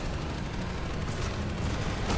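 Dense turret gunfire in the video game Planetside 2, two gun emplacements firing down a staircase at attackers below, a continuous loud barrage of rapid shots with no talk.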